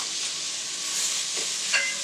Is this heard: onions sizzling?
yes